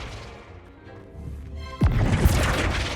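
A Flipendo spell cast in Hogwarts Legacy on PS5, a sudden whooshing blast that hits with a sharp thumping impact partway through, then a loud rushing burst that lingers to the end.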